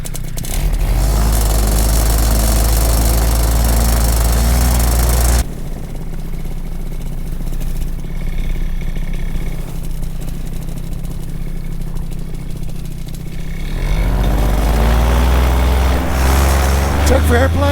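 A paramotor engine roars loudly during takeoff, fading to a lower, rougher drone before surging back up, with wind buffeting and someone talking over it.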